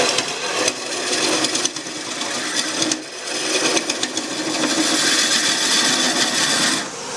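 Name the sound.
lathe tool rest rattling during deep hollowing of wood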